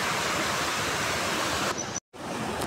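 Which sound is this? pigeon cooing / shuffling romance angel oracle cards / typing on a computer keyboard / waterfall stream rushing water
waterfall stream rushing water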